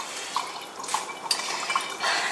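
Water squeezed from a soaked plush pony toy, soft wet squelches and faint splashing drips coming in a few close, quiet bursts.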